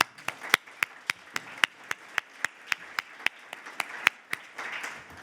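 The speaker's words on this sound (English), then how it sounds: "Can we just get a round of applause for those statistics," Sparse, evenly spaced hand claps ring out at a steady rhythm, about four or five per second, like a small group applauding politely at a conference panel.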